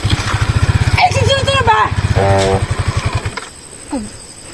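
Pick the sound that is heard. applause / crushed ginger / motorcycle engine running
motorcycle engine running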